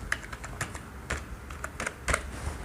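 Laptop keyboard typing, a quick run of crisp clicks in small clusters with brief gaps, close and clear, no voices.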